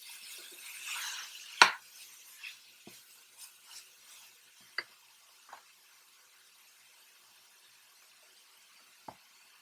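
Minced chicken keema sautéed in a pot: a sharp metal spoon knock followed by scattered scrapes and taps that thin out into near silence, with only faint sizzling underneath.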